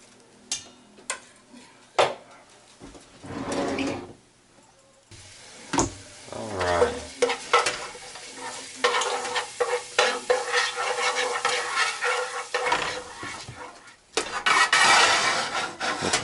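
Fresh diced basil sizzles in a pan with garlic and olive oil for tomato pizza sauce, punctuated by repeated scraping and stirring strokes of a utensil, with brief pauses and a louder burst of frying near the end.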